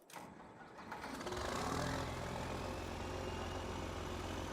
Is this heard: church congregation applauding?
no